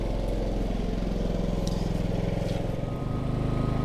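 A Harbor Freight Predator 5000 inverter generator running on natural gas idles with a steady, loud, close engine drone and a regular low pulsing throughout, with no talking.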